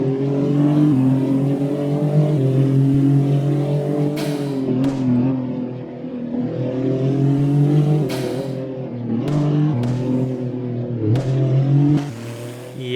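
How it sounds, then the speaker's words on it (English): Interior engine sound of a car accelerating in the Roblox driving game Driving Empire, a steady droning whine climbing in pitch, with several sharp gear-shift breaks and repeated revs. "My only problem, other than the idle, is the interior sound. So let's go ahead and give you a little audio test with that."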